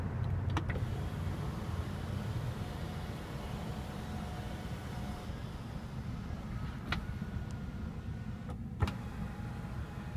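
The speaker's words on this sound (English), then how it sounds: "a panoramic sunroof with sunshade controlled through this switch right here" Faint electric whir of the panoramic sunroof sunshade motor in a 2014 Mercedes-Benz CLA250, a quiet steady hum inside the cabin with a few soft clicks and thumps as it moves.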